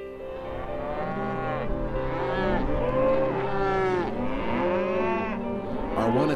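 Cattle moo repeatedly in long, overlapping calls during a Utah cattle drive, sounding close and loud over a low background hum.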